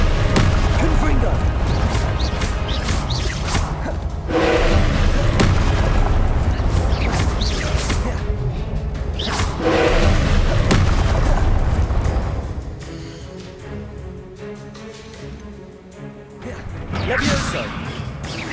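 Confringo fire spells explode in Hogwarts Legacy, a series of heavy booms and crashing blasts over busy game music and effects, loud and dense for most of the stretch before dropping quieter, then swelling again near the end.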